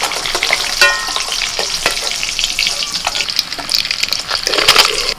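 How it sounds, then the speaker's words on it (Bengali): Eggs frying lightly in hot oil for a Bengali egg curry, a steady close sizzle with scattered crackles and pops, a brief clink of a utensil and a slight swell of spatter near the end. "ডিম একদম হালকা করে ভেজেই তুলে নিচ্ছি"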